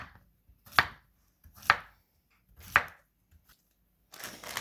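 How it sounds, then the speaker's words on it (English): A knife slices through a peeled fruit, making three crisp, separate cuts spaced about a second apart, close and clear against near silence, with a brief rustle at the end. "So I'm going to go ahead and slice this up."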